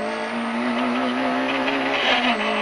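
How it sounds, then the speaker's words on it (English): Peugeot 106 Rallye rally car on a stage, heard from inside during a handbrake turn: a steady loud engine drone with a tonal whine, tyre scrub and skidding noise swelling over the roar, no talk. "We're going to get it round there on the handbrake, no matter what."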